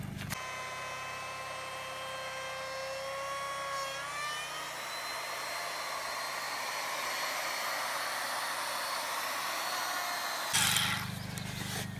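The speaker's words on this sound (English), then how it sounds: "setting up that router jig and running the router twice on each pocket happens a total of 8 times" A router running in a jig cuts a pocket for timber frame joinery, giving a steady, continuous high whine whose pitch shifts partway through, with a brief louder burst near the end and no talking.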